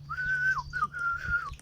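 A person whistles a wavering melody through pursed lips, a few sustained notes with brief breaks, close and clear over faint background hum.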